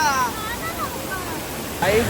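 Rushing water from a waterfall swollen by heavy rain forms a steady, full roar, with people talking briefly over it at the start and near the end.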